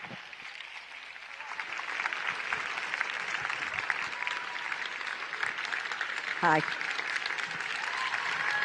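A large crowd in Malmö Arena applauds a speaker taking the stage, broad sustained clapping with some cheering throughout, while a voice briefly speaks over it.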